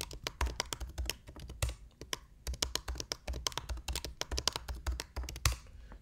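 Password keystrokes on a computer keyboard during a Linux user setup, a quick irregular run of close, crisp key taps with short pauses between bursts and no talking.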